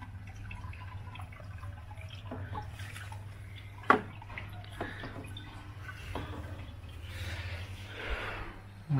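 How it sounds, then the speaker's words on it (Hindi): Water runs from a tap while a temple and its Buddha statue are washed for a Diwali evening puja, a soft steady flow with scattered drips and splashes and a few sharp knocks. "और ये देखिए पानी चला दिया आज।"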